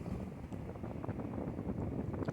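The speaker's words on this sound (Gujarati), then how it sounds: "પવન જ એટલો છે કે હાથમાં ફોન પણ રહેતો નથી" Strong wind buffets a handheld phone microphone during a trip from Bangalore to Mysore, making a loud, rumbling, gusty roar that continues steadily throughout without any speech.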